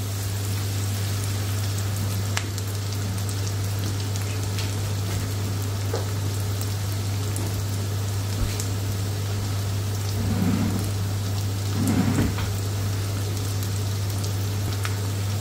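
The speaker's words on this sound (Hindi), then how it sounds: "अनियन को हमने ज्यादा नहीं भूनना, बस हल्का सा इसको फ्लेवर देना है, हल्का सा इसको सौटे करना है ताकि सॉफ्ट हो जाए" Onions sautéing lightly in a pan for Punjabi-style dal tadka: a continuous soft sizzle with a constant low hum beneath, brief swells of louder crackle near the end, close, no speech.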